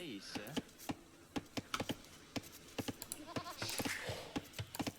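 Sheep bleating in the Age of Empires strategy game during a competitive match, short game sound effects and clicks repeating steadily while a commentator talks over them.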